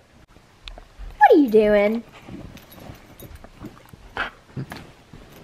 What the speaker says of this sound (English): There's my dog for you.